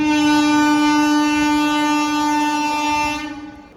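A long, loud, steady train horn blares from a train crossing a bridge, one sustained tonal blast that tails off near the end.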